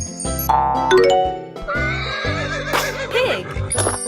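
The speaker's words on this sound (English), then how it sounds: "Horse." A horse neighs in a long, loud whinny that rises and quavers, with bright chime-like tones mixed in, as in a toy sound effect, and no speech.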